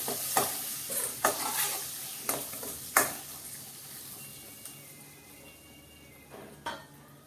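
Gunda (lasoda) being stirred into hot oil tempering in a pan, with several distinct scrapes and clinks of a spoon against the metal over a soft sizzle, the strokes coming every second or so and fading toward the end.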